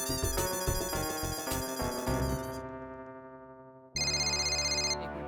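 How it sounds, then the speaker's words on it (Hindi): A phone ringtone plays a bright electronic melody up close, pauses briefly, then starts ringing again with a sharper, high repeating tone. "फोन आया।"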